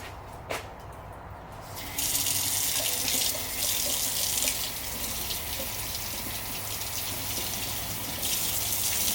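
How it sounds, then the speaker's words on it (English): Tap water gushes steadily into a container holding plant cuttings, starting after a brief splash and running continuously close by, filling it to the top with no one speaking. "I'm going to fill the water clear to the very top."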